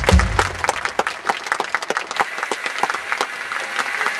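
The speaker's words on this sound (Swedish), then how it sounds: "Vi ger henne en jätteapplåd" An audience applauds for a singer at a Swedish talent show, the 2010 Talang contest, with steady dense clapping from a large crowd that carries evenly through the whole stretch, with no voices over it.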